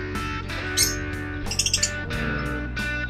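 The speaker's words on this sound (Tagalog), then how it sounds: "Ingay ng ibon ko ah." Bright, sharp chirps from a small pet bird ring out in brief clusters over a steady low hum of background noise.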